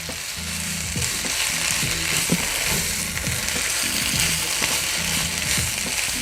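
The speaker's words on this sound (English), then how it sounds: "we're gonna go ahead and add the meatballs" Meatballs cut in half sizzle and fry in a pan with wilted greens, a steady crackling hiss over low rumbling, with occasional stirring scrapes throughout.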